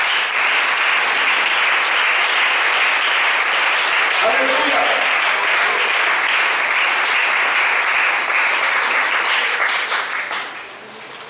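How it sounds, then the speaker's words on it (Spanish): A church congregation bursts into loud, sustained applause filling the hall, dense clapping that holds steady then tapers off at the end, with a voice calling out over it. "Denle ese aplauso a él."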